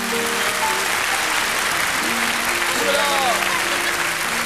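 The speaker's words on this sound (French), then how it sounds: "Applaudissez très fort, Maureen" A French television fan-show audience applauds loudly for a young girl named Maureen, sustained dense clapping throughout, with faint music tones and brief voices blending under the crowd noise.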